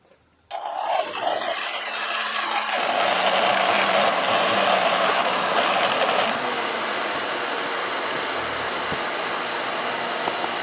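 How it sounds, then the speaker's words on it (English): Heat gun blowing hot air onto a Honda seat cover: a sudden switch-on followed by a loud, steady whirring hiss that holds on, its pitch shifting slightly partway through. "I'm going to try to warm it up with a heat gun."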